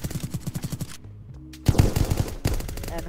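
Automatic weapon fire in the Apocalypse Rising 2 video game: rapid bursts of shots, a short pause, then a louder, denser volley of gunfire close up, with no talking.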